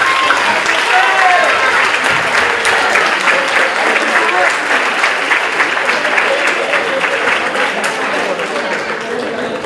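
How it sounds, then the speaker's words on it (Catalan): Sustained applause from a graduation ceremony audience, a dense wash of many hands clapping steadily for about ten seconds, loud and close, easing slightly toward the end. "Un aplaudiment per a vosaltres."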